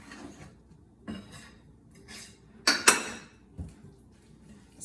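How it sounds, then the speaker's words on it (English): A spatula works thick banana bread dough in a bowl, making scattered soft scrapes and knocks against the side, with a pair of sharper clatters in the middle. "Spatula and mix it."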